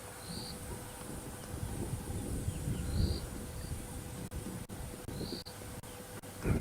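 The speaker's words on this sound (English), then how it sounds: "You can hear a cricket." A cricket chirps in short repeated bursts in the African bush at sunset, faint and somewhat distant over a low rumbling background hum.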